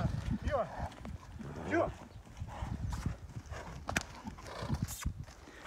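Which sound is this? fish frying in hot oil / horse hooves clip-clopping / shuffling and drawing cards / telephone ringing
horse hooves clip-clopping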